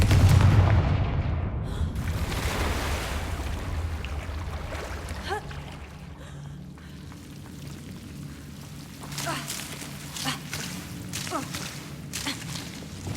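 Confringo blasting spell explosions in Hogwarts Legacy, a loud booming burst up front fading into rumbling debris, then several sharper crackling blasts, with a voice casting spells over the game sound.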